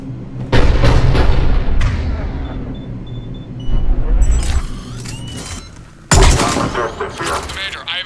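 Loud cannon fire and heavy explosions in the Mass Effect 3 video game, booming blasts arriving in bursts with a rumbling battle bed between them and faint voices underneath.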